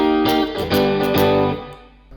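Electric guitar strumming a short chord link, a few sustained chords with distinct strummed attacks and a slightly effected, driven tone that fades out at the end, played alone.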